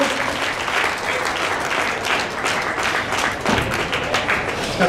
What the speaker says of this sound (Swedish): Första applåden.